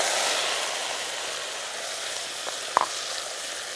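Onion fries in a pan in a home kitchen with a steady, close hiss of sizzling oil that holds evenly throughout, with a couple of brief utensil taps near the end.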